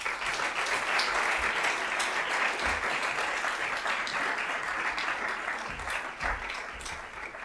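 An audience at a keynote lecture on the ethics of technology applauds to welcome the speaker, with steady, sustained clapping from a full room that fades slightly toward the end.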